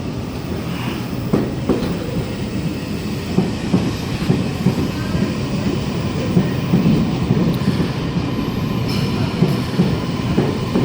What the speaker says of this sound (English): we have an S set arriving on platform number 20